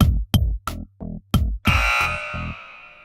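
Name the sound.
game show buzzer pressed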